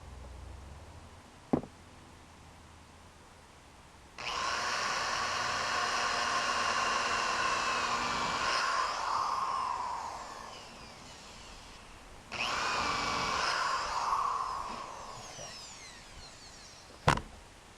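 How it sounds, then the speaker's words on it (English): A power drill whines loudly drilling a center hole during truck cab mount repair, in two long bursts, the first about eight seconds, the second shorter, with sharp clicks before and after. "I'll be able to continue drilling the center hole"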